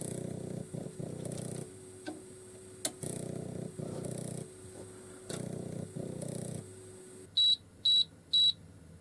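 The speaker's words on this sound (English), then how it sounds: "we've got the 3 beeps, which means that the disk is not recognized" Mechanical whirring and clicking pulses from the disk drive head of an Amstrad PCW 9512+ computer, then three short, clear electronic beeps in quick even succession at the end, signalling the disk is not recognized.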